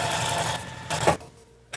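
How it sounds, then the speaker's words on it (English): A sewing machine stitching a quarter-inch seam while piecing a half square triangle quilt block: a close, fast mechanical whir with rapid needle rhythm for about a second, stopping briefly before a short restart. "I'm going to sew that down 1/4 of an inch"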